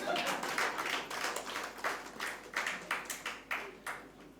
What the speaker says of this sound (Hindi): तो इनके लिए ताली बजाओ ना